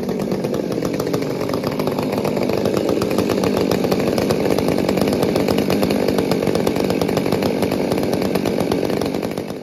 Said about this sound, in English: We'll run out of the woodlot, do some test cuts, and see how close I got with a modern 201 versus a 200